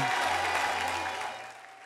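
A church congregation applauds during a Sunday service, loud and dense clapping at first that thins and fades toward the end of the short burst, with no speech over it.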